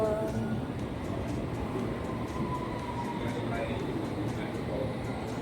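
A London Underground Metropolitan Line train rumbles steadily and loudly throughout, with a constant dense roar and faint higher squeals, while a voice talks over it.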